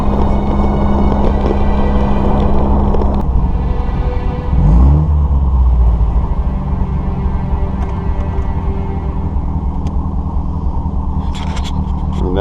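A vintage MG TD sports car's engine drones steadily while driving in Assetto Corsa, a loud continuous low rumble with a brief pitch sweep as the revs shift mid-drive.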